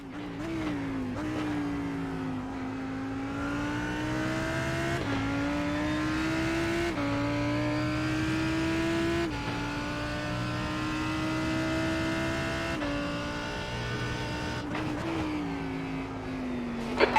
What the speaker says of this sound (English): here come the GTE cars